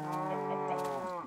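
A Minecraft cow lets out a single drawn-out moo, loud and close, with a steady harmonic tone running for just over a second.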